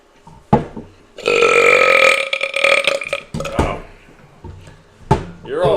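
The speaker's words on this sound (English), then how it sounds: "I think the garlic makes me burp." A loud, drawn-out burp of about two seconds, blamed on eating garlic, with short knocks and bumps around it and a few other brief sounds.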